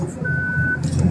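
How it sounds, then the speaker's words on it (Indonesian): A single short electronic reversing beep from a truck rings out over a low engine rumble, close and clear. "kok suara mobil truk, lu lagi bawa mobil truk"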